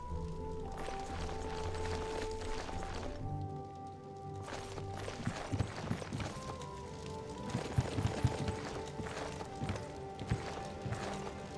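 Horse hooves clip-clop steadily in the video game Oblivion, blended into a dense bed of game ambience and music that carries on throughout.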